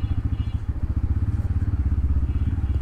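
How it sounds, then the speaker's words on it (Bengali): A motorcycle on the road toward Feni thumps along with low, rapid, evenly pulsing engine beats, close and continuous throughout. "অনেকদিন পরে বাইক নিয়ে বেরোচ্ছি"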